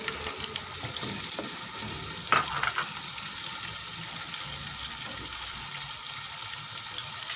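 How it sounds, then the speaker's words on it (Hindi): Chicken being sautéed and stirred in a pot for chicken haleem with red chillies and turmeric, a continuous close sizzle broken by occasional spoon scrapes and knocks against the pot. "अब हम चिकन को भून लेंगे"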